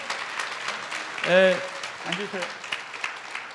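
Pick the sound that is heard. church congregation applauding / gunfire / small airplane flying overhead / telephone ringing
church congregation applauding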